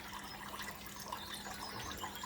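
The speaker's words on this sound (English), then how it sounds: "by simply having this magnificent waterfall in our apartment." An indoor decorative waterfall runs in an apartment, giving a steady, soft, even rush of falling water with no pauses, close and quiet.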